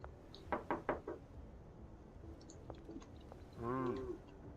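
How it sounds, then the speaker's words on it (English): Knocking on a door in the video game Schedule 1: a quick cluster of four or five hard raps early on, then a couple of fainter taps and a short voiced sound near the end, with no talking. "I am just banging on every door."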